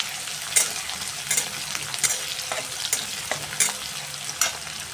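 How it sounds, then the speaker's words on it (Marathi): Finely chopped onion sautés in hot oil with cumin seeds for misal, giving a continuous close sizzle broken by several sharp scraping stirs at regular intervals. No one speaks. "कांदा लालसर होईपर्यंत परतवून घेणार आहे आपण"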